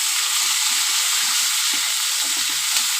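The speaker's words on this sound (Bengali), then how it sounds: "বেশি ভাজবো না, সবজিটা হালকা ভাজবো।" Ridge gourd and potato with turmeric frying lightly in a pan, giving a steady, close, continuous sizzle with faint stirring movements underneath and no talking.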